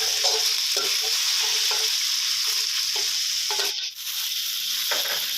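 Thick, hard carrot pieces stir-fry in a pan for a mixed vegetable and chicken dish: a steady bright sizzle broken by repeated rhythmic scraping strokes, and a brief dip near the end, with no speech.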